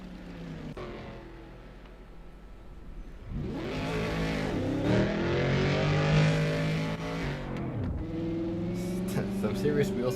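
Race cars spin their wheels leaving the pits in the GP Simsports GTC racing game, engines rising from quiet to a loud, droning, revving roar before dropping away, with a voice talking over it.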